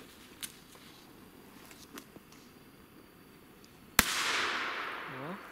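A few faint pops, then one sharp, loud bang from older Komet Super Bowler 1 firecrackers with the Pagoda label, followed by a lingering crackling hiss.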